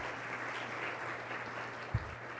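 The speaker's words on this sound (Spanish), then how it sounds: "Un aplauso, por favor." A steady wash of crowd applause fills the room, even and moderately loud, with one brief thump near the end.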